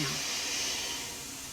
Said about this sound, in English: Sounds like steam from the engine is moving through those pipes